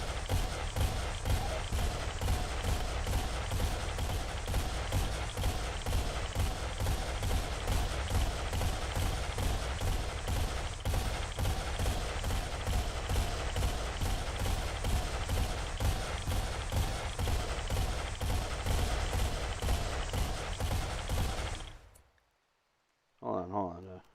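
Gunfire from colonists at shooting practice in RimWorld, a rapid steady stream of crisp shots repeating for about twenty seconds before cutting off abruptly, followed by a brief quiet pause and a final short burst.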